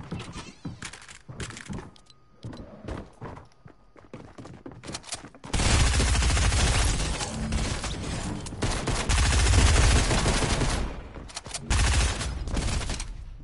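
Video game gunfire starts halfway through as a sudden dense burst of rapid shots that keeps going loud and steady, following a quieter stretch of scattered thuds and clicks.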